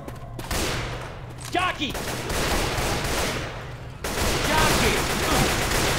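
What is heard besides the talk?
gunfire in a zombie shooter video game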